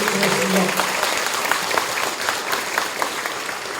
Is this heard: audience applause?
yes